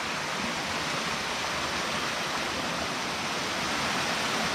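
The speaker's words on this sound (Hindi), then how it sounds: "ये सारे पानी आपको पहाड़ों से आता हुआ" Mountain water from the hills of an Uttarakhand village flows and rushes in a dense, continuous wash of noise that stays loud and unchanging throughout.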